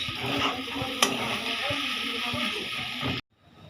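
Mixed chow mein noodles being stirred as they fry in a pan, with a continuous loud sizzle and scraping of the spatula close up, one sharp clink partway through, then the sound cuts off abruptly.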